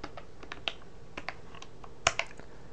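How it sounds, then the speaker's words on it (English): Soft, scattered keystrokes on a computer keyboard as a password is typed, quiet irregular clicks with a slightly louder cluster near the end, no talking. "type your password"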